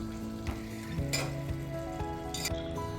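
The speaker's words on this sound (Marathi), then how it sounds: "आता भाज्या छानपैकी मिक्स करून घेऊ आणि मीडियम गॅसवर तेल सुटेपर्यंत परतून घेऊ." Vegetables and paneer sizzle in oil over medium heat for veg biryani, giving a steady close frying hiss, with occasional spatula scrapes and stirring knocks against the pan.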